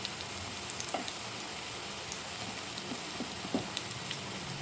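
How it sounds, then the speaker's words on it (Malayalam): Spices and an onion mixture, with chili powder added, sauté in a pan with a faint, steady sizzle broken by a few soft clicks from stirring. "ഇതെല്ലാം കൂടി നന്നായിട്ട് വീണ്ടും വഴറ്റുക. ഇനി ഇതിലേക്ക് കുറച്ച് മുളക് പൊടി ഇടുന്നുണ്ട്."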